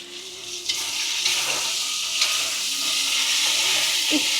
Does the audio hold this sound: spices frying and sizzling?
yes